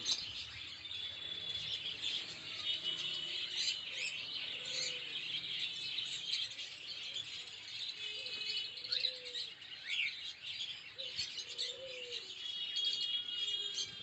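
Cockatiels chirp and twitter continuously, a busy chorus of high tweets with a few soft whistled calls underneath.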